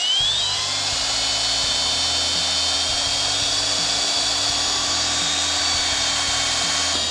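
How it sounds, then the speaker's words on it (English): A drill bores into the connecting rod of a VW Bus engine while a wrist pin bushing is being replaced, giving a loud, steady high-pitched whine that stays constant throughout, with a low motor hum that rises and falls slightly beneath it. "Drilling it."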